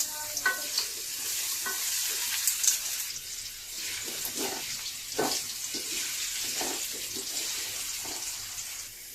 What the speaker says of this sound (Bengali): আলু এবং গাজরগুলো আমরা ফ্রাই করে নিচ্ছি